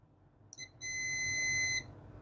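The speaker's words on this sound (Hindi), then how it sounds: "आप बीप भी सुन सकते हैं, यहाँ तक बज रहा है।" A multimeter's continuity tester gives a short beep, then a steady, clear, moderately loud tone for about a second while tracing a circuit line on a Jio Bharat phone board, over a low background hum.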